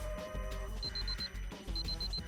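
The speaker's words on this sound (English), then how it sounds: "at that moment the Moon's Age alarm goes off" Electronic alarm going off in the video game I/O, two bursts of rapid repeated high beeps over low music and ambience, with no voices.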